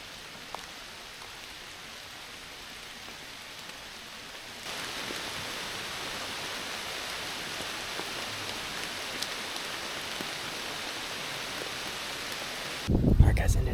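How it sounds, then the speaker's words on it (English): Light rain patters steadily through woodland, a soft hiss that grows slightly fuller partway through, with a brief louder rustle at the very end. "We got light rain."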